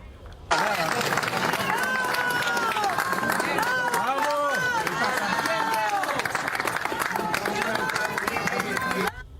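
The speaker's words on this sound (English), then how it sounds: "listen to the applause and cheers as he's being wheeled out on a stretcher" Crowd applause and cheering break out after an earthquake rescue as a survivor is wheeled away on a stretcher, a loud, sustained roar of clapping and excited voices, with people calling out over it.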